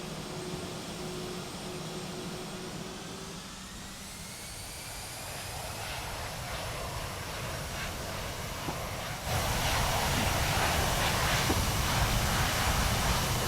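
A jet airliner in the Prepar3D flight simulator spools up and rolls for takeoff from Oslo at night, a steady engine roar climbing in pitch and then swelling louder, with no talk over it.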